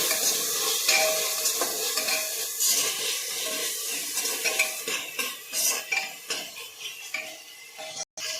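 Masala frying in oil for homemade chicken biryani, a loud close sizzle with constant metal spoon scraping and clinking against the pot, the stirring growing choppier toward the end and broken by a brief cut.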